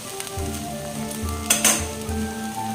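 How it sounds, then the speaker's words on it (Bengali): A spoon scrapes and stirs a poppy seed spice paste as it sizzles in hot oil in a pan, with soft clinks of metal against the pot over a steady frying hiss. "এবার একটু ভালো করে নেড়ে মিশিয়ে দেবো"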